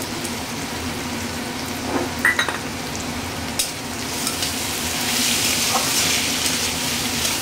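Pre-fried potatoes going into a pan of frying mushroom curry, with a continuous hiss of sizzling oil, a couple of soft clinks and stirring scrapes, then the sizzle swelling brighter toward the end.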